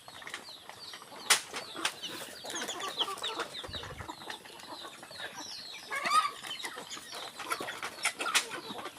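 Barred or patterned chickens cluck and squawk continuously while wings flap and beat in several sharp bursts, with fowl noise filling the whole stretch at close range.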